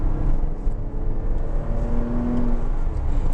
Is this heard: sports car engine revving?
yes